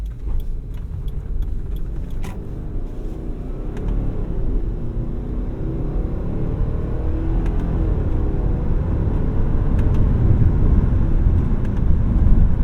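A Subaru Forester XT with a CVT gearbox drives along, its engine and road noise a steady low rumble that slowly swells louder, with faint rattles and clicks inside the cabin.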